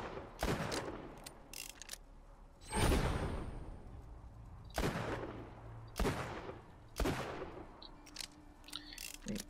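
Shotgun blasts in Borderlands 2, about six loud booming shots spaced a second or two apart with decaying tails, fairly close and largely alone with faint background game noise.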